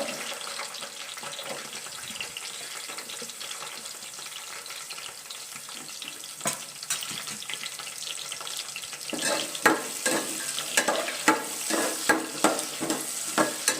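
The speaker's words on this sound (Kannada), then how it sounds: "ನೆಕ್ಸ್ಟ್ ಇದಕ್ಕೆ ಈರುಳ್ಳಿನ ಹಾಕ್ಕೊತಾ ಇದ್ದೀನಿ." Onions hit hot oil with fennel seeds for egg biryani and settle into a steady close sizzle that grows busier toward the end, with clicks and scrapes of stirring.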